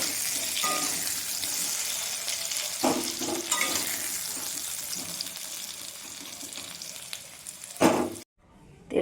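Potatoes frying in oil in a pan, a continuous loud sizzle with occasional clatters of stirring, cut off abruptly near the end before a brief burst of sound returns.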